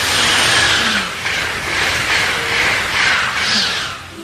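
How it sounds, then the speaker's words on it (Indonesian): A toy high-speed train whirs along steadily with a soft mechanical hiss and rolling clatter, fairly close and continuous, with no voices. "lihat teman, di sini ada kereta api cepat."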